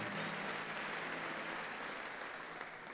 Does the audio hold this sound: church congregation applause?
yes